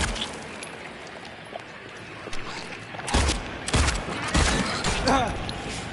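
Gunfire aimed at a nurse enemy in the Silent Hill 2 Remake hospital, several sharp shots cracking out loudly in the second half over a dull ambient background.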